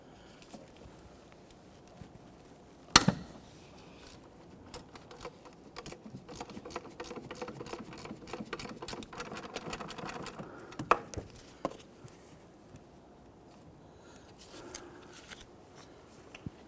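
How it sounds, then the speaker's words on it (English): A gear wrench ratchets on a 12mm bolt in the engine bay of a 2005-2021 Nissan Frontier 4.0L V6, giving a quiet run of fast, dense clicks after a sharp knock, then trailing off into a few isolated taps. "I'm going to use our gear wrench on that."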